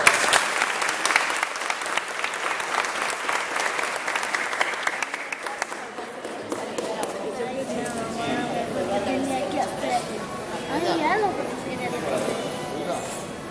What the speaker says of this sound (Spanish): pido por favor un aplauso de agradecimiento